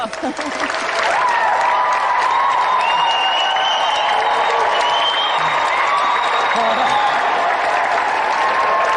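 A studio crowd at a video game show cheers and applauds loudly and continuously after a match ends, a dense roar building in the first second and holding steady, with voices mixed in.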